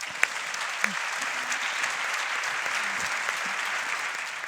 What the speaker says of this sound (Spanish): 2 aplausos ya, ya van 2 aplausos